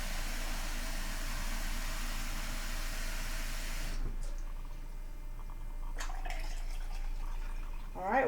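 Water poured from a pint measure into a quart container, a steady rushing pour for about four seconds that stops abruptly, followed by a few faint drips and clinks.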